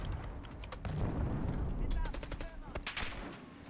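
Gunfire from a GPMG machine gun in the video game Black Ops 6, a dense burst of rapid shots with sharp cracks, loud and close, followed by a few separate reports as the volley trails off.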